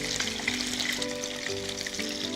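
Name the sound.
fish frying in a pan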